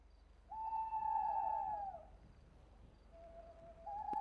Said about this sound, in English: saying that was an owl